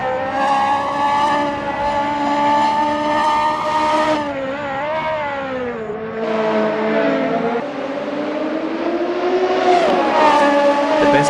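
Radical SR3 race cars at Mont Tremblant in a racing video game, high-pitched engines screaming loudly and steadily as they shift up and down through gears, with rising and falling pitch sweeps and no talk.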